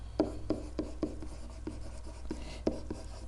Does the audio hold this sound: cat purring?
no